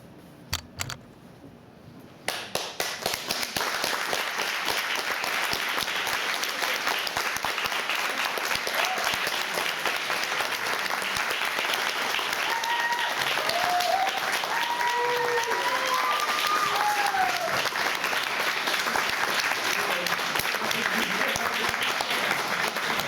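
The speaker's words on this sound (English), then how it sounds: "Let's give one more round of applause to both rounds." An audience at an ethnographic theatre performance breaks into sustained clapping that starts abruptly after a quiet moment and continues steadily and fairly loudly, with a few whoops rising above the applause midway.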